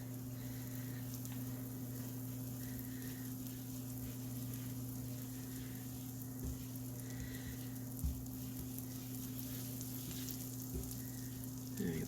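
Butter and olive oil heat in a pan, giving a soft, steady sizzle over a constant background hum, with a few faint clinks near the end and no talk.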